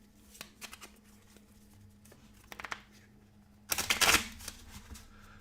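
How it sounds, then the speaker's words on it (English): Playing cards from a Dominant Species card game deck are shuffled by hand, a few short riffling bursts followed by one louder, longer riffle close by, with no talking. "So we will shuffle all these cards back up together."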